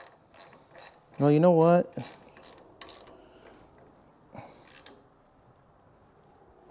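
A hand ratchet clicks in a quick, close burst while tightening down rear brake parts on a car, followed by fainter clinks and rubbing of tools and metal.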